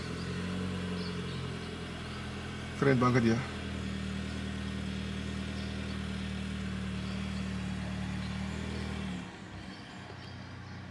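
A Lexus ES250 engine turns over and settles into a steady low idle hum, with a person speaking briefly over it.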